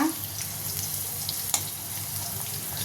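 Mustard seeds and cumin fry in a pan with ivy gourd, making a close, steady sizzle with a soft watery hiss and one sharp crackle partway through.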